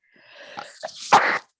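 A single close sneeze: a short wheezy inhale building up, then a sharp, loud burst of breath.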